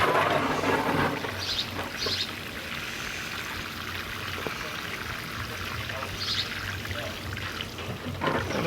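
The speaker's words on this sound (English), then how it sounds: "and I'll water that in." Water pours steadily onto soil around a freshly planted cabbage or broccoli seedling beside a drip emitter in a garden bed, a close, continuous splashing trickle with a few brighter spatters.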